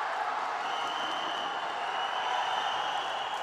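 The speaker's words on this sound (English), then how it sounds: "That got the crowd going a little bit." A judo arena crowd reacts to an uchimata throw attempt, giving a steady wash of murmuring, clapping and cheering that holds at an even level throughout, with no single voice standing out.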